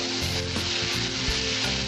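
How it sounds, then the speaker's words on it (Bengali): Loud, constant sizzling of vegetables frying in a pan, with scraping and clattering as they are stirred around. "সবজিটা একটু নাড়তে হবে।"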